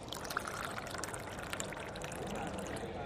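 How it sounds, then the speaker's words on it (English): Water pours steadily from an AI-powered dispenser at the Atlassian Team '25 Europe conference, a continuous close splashing trickle with faint background chatter. "That's a little bit of AI-powered water dispensing right there."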